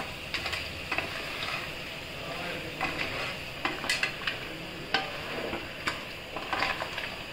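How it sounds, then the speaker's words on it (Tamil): Crab gravy is stirred in a pot, with a spoon clinking and scraping against the metal in irregular knocks over a quiet background simmer and faint sizzle. "நல்லா கிளறி விட்டாச்சு"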